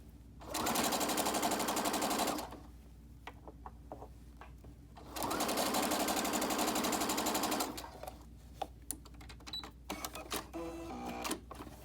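Sewing machine stitching a three-layer pocket mask, running in two steady bursts of a couple of seconds each, close and loud, with quiet handling clicks and fabric rustle between them and no talk.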